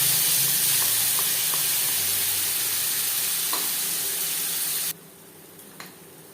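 Spice paste frying loudly in hot oil with whole cumin and dried red chili, a dense continuous sizzle with a few faint clinks that cuts off abruptly near the end and leaves a quiet background.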